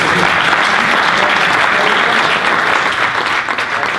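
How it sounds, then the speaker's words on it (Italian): Steady, dense applause from an audience at a talk, loud and continuous throughout without any voices rising above it. "Un applauso, grazie"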